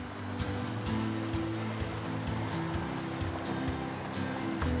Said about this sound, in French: On a traversé le petit torrent du Brevon